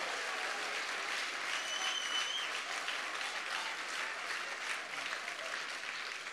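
Applause from a church congregation during a Sunday service in Bristol, a steady dense wash of clapping filling the whole stretch at moderate distance, with a faint whistle partway through.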